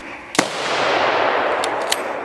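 A rifle shot at a bayed wild boar on a Hungarian hunt, a sharp crack followed by a steady rushing outdoor noise, with a couple of fainter clicks or pops later.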